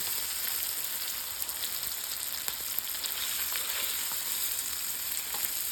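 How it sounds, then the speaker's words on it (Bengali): Onion fries in a pan of hot oil just used for hilsa fish, an even, bright sizzling hiss with faint crackles throughout, close and steady, with no one speaking. "আমি এখন নামিয়ে এর মধ্যে একটু পেঁয়াজটা ভেজে নেব"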